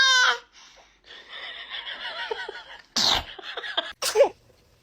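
A baby sneezes several times in quick succession, close and loud, with short sharp bursts separated by softer breathy sounds and small giggles in between.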